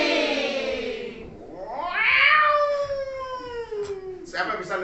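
Several young voices imitate a cat, drawing out long rising and falling meows, one after another, close and fairly loud.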